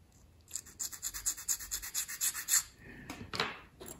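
A photo-etch file rasps on soldered photo-etch metal for a 1/200 scale IJN Mikasa model, a steady series of short, even back-and-forth strokes, then a few slower scrapes close up, with no talking.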